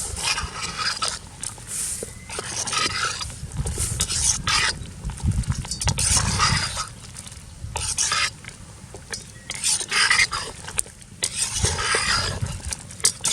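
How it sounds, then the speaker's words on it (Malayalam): A spoon stirs kappa (cassava) and beef parts in a pot, with continuous scraping and clattering against the metal in uneven bursts, close and fairly loud, while a faint sizzle runs underneath. "നന്നായിട്ടൊന്ന് ഇളക്കി കൊടുക്കുക"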